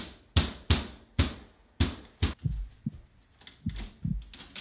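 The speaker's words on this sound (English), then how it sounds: "The heartbeat sound effect really just adds intensity to the moment." Heartbeat sound effect: deep, thumping lub-dub beats in a steady pulse, about ten loud close thuds alone with no voices.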